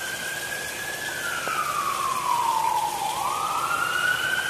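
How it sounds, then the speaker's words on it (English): A single emergency vehicle siren wails through a city park, its pitch sliding slowly down and then sweeping back up, loud and continuous over a broad hiss of background noise with no talking. "being in the city, sirens are blaring all the time."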